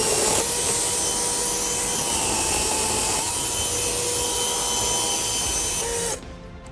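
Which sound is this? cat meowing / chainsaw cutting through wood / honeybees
chainsaw cutting through wood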